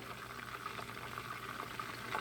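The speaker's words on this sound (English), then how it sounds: "I'm gonna pour a little bit of the grease off" Hot grease being poured off chicken frying in a pan gives a faint, steady bubbling sizzle with a soft liquid hiss throughout.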